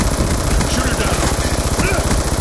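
Rapid automatic gunfire from the video game Call of Duty: Black Ops 2 rattles continuously in dense, loud bursts with other game sounds mixed in.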